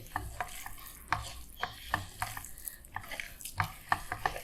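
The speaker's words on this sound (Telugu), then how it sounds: "ఆకులు మంచి బాగా అంటున్నాయి శనగపిండిలో కలుపుతుంటేనే." Leaves being worked by hand into a thick gram flour batter with turmeric and salt for pakoda, a quiet wet squelching and slapping in an irregular rhythm, close and soft.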